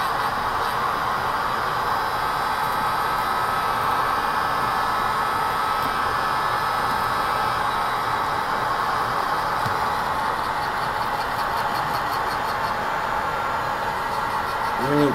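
Heat gun blowing hot air onto the glass of a Samsung Galaxy Note 2 during a screen repair, a steady loud whooshing roar that runs unbroken the whole time, with no talking.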